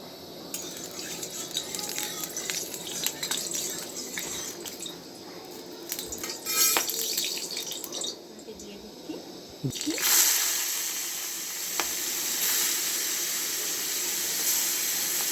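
Salt-marinated bagda prawns fry in a little oil in a pan: soft hissing sizzle with scattered utensil clinks, then a louder, sustained sizzle surges after a brief lull.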